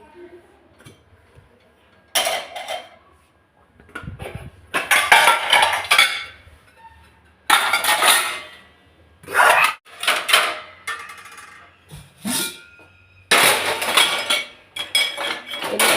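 Dishes and utensils clatter and clink in irregular bursts as they are handled nearby, with short pauses between the clusters of knocks.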